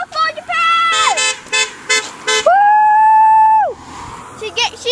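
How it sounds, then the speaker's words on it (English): Car horns honk on a street during a roadside cheering event, several long and short blasts, some sustained for over a second, loud and near, with shouting voices mixed in. "Honk for Japan!"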